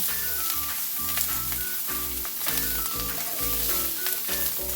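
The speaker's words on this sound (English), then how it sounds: "We're gonna just stir them on with hot oil." Mushrooms frying in hot oil for a Spanish quiche, a close sizzle over rhythmic scraping as they are stirred, with music playing underneath.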